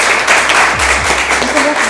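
Applause and clapping in an Arabic quiz show studio after a correct answer, a steady broadband patter lasting under two seconds, fairly loud and close.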